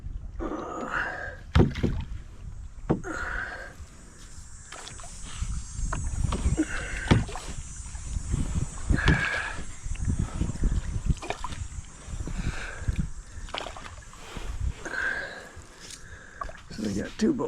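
Paddle strokes from a canoe or kayak on the shallow Menominee River in Upper Michigan, with close splashes and drips repeating every second or two against steady wind and water noise; someone talks now and then.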